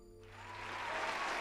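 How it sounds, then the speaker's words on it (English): An applause sound effect swells from a quiet start into steady crowd clapping, continuous and fairly close. "let me give you an applause here"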